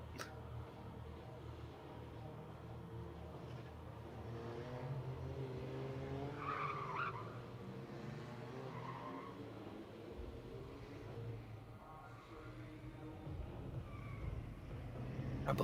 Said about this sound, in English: I believe we can maybe hear a car getting their tires warmed up for the first battle.